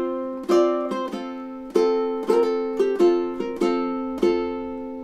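Ukulele picks out the A melody of March of the Toreadors, a steady line of plucked notes with sustained chord tones ringing underneath, played solo and fairly close.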